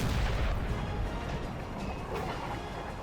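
Artillery fire booms in a Napoleon Total War battle as a dense, loud, continuous rumble of cannon and gunfire, with a faint voice beneath it.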